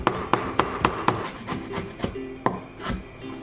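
Knife cutting a carrot into thin slices and strips on a wooden board, a run of crisp, evenly spaced chops that slows toward the end, close and clear with no speech.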